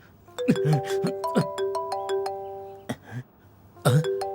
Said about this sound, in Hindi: अब ये फोन क्यों कर रहा है?